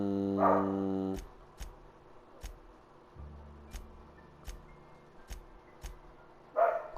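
A pet dog barks at the start and again at the end, short close yaps, separated by a run of sharp ticking clicks and a low hum in a quiet room.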